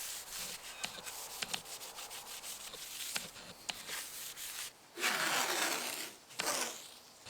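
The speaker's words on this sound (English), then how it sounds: "Love the sound of tape being pulled." Adhesive tape peeled off a workpiece after acetone cleaning, a rasping strip-tearing sound heard up close, with scratchy rubbing before and two louder ripping pulls near the end.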